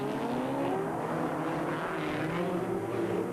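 Rallycross cars at Druids bend in 1985, their engines a continuous loud, droning roar with rising and falling pitch as several cars race past, heard from a distance with no voices.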